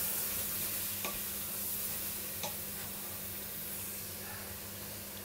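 Meat and bacon are stirred in a pot for boeuf bourguignon, a quiet constant sizzle with a couple of faint scraping clicks from the spoon.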